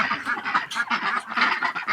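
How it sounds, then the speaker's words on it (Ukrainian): A flock of ducks honking and quacking continuously, loud and close, with overlapping calls and no talking. "Ось ця качечка дуже красива, чорна,"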